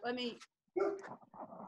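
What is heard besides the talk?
dog barking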